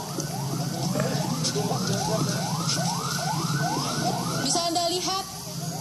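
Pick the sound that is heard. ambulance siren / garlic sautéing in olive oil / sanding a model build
ambulance siren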